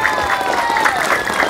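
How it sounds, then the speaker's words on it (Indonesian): Audience applause at a pesantren event, a dense steady patter of clapping from a crowd that continues throughout, loud and close under a faint tonal hum. "Tepuk tangan untuk Darul Falah Imamiyah."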